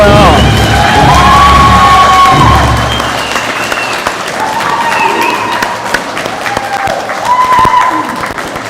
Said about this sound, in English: let's give one more final applause to the 2026 Grade 12 Mature 12